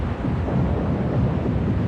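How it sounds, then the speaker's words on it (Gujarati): A thunderstorm sound effect with lightning and rain, used in a children's story, gives a steady, loud, low rumble with no voices. "ભયાનક તોફાન આવ્યું. વીજળી ચમકી, વરસાદ પણ શરૂ થયો."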